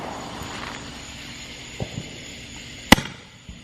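Fourth of July backyard fireworks, including a Roman candle, go off outdoors. A few soft thuds and pops lead to one sharp, loud crack, followed by fainter pops over a steady background hiss.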